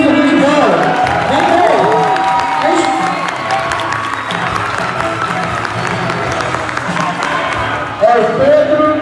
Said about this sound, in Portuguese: Palmas para os meninos do futebol.